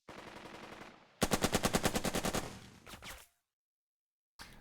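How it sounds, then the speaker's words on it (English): A .30 caliber machine gun fires in the World War II leadership game Burden of Command: a loud rapid burst of about a dozen rhythmic shots, then a shorter trailing burst and a brief third one after silence. "That's the sound to hear and fear, especially since the machine gun is firing at the enemy beyond the effective range of their rifles."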